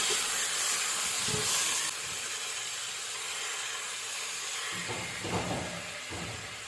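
Pork sautéing with onion and garlic for sinigang, a broad steady hiss of hot oil that grows softer after a couple of seconds, then a few stirring scrapes near the end, nobody talking.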